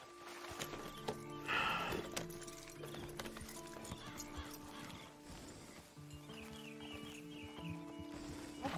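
Horse in the Red Dead Redemption video game: hoofbeats clip-clopping at a steady pace with a brief whinny, over musical background tones, fairly quiet.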